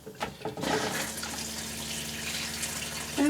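After a click, water gushes on again from an RV shower and runs in a steady, hissing stream at close range; it stays fairly quiet and even, with no talking.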